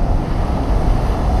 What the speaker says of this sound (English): Wow, those waves are nice, man.